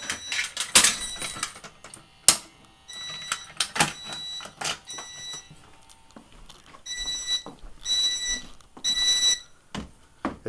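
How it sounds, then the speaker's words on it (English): Fire alarm horn strobes set to temporal pattern during an alarm panel test, shrill electronic tones in repeated bursts with pauses, alongside clicks and clunks from handling the panel. "the horn strobes are set for temporal"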